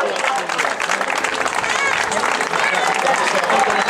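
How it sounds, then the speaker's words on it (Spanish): Spectators applaud a runner at the Meaño popular footrace in 2012, with dense, steady outdoor clapping from a crowd, fairly loud, with voices mixed in. "Vamos a dar un aplauso."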